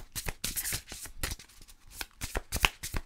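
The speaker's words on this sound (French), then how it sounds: "On va aller chercher une carte conseil pour vous." Cards shuffled for a tarot-style reading, crisp riffling and slapping sounds repeating in quick, uneven bursts close to the listener.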